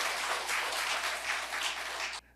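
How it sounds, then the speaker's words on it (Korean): A church congregation in Suwon applauds to encourage a leader during Sunday worship, a full, even roar of many hands clapping together that ends abruptly into quiet. "우리 박수로 격려해 주시기 바랍니다."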